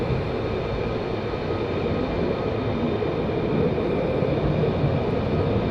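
F-15 fighter jets at RAF Lakenheath give off a dense, steady engine rumble and roar, held at an even level the whole time with no voices.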